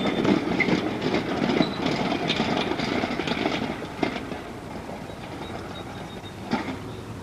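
An electric trolley on the South Bend Electric Railway rolls steadily along rails, a continuous rumbling clatter with occasional sharp squeals and clicks from the wheels.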